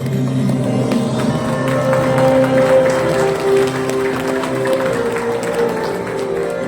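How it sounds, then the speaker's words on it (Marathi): A crowd at a get-together of MS-CIT computer centres in Satara district applauds as a centre head is called up to the stage. The clapping is loud, dense and steady throughout, with sustained tones running underneath. "टाळ्यांचा आवाज जोरदार झाला पाहिजे."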